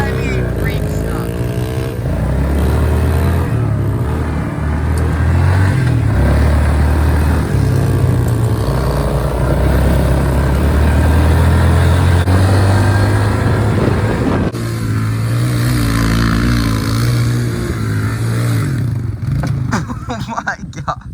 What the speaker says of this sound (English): we're really good at wheelies and donuts